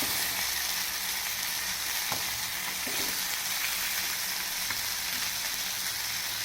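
Fish fries in a pan, a steady, hissing sizzle that holds evenly throughout with a few faint clicks of a utensil, heard close with no one talking.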